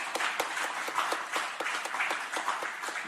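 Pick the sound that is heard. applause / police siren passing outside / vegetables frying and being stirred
applause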